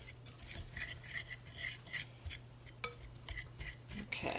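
A spoon scrapes and stirs almond flour scone mix with shredded coconut, ginger and cinnamon in a bowl, making soft, rhythmic rubbing strokes that are close but quiet.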